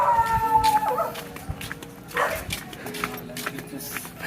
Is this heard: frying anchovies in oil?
no